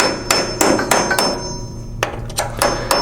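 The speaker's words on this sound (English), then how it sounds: "So I'm just going to tap them lightly." A hammer lightly taps roll pins out during a GFP laminator roller and heater change: about eight sharp, close metallic knocks, first in an even run of four, then a pause, then another quicker group, with no talking.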